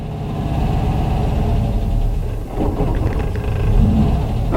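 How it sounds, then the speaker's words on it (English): A VW Autovilla camper van engine idling after a cold start, with a loud, close, low rumbling drone that dips briefly and then surges slightly, unsteady but continuous, with no talking. "idling under cold conditions not so great, but it does idle"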